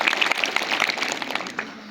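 A school quiz audience claps for a student, a brief burst of dense applause that tapers off within two seconds.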